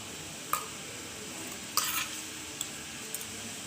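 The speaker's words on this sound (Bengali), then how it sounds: "এখন আমি যতক্ষণ না জাল হয় এটাকে নাড়বো" Sugarcane jaggery is stirred into boiling water on a medium flame, heard as a steady bubbling hiss broken by a few sharp spoon knocks and scrapes against the pot, with no speech.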